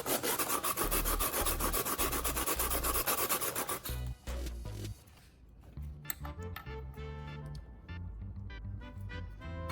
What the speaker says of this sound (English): I use sandpaper to thin out the base of the can.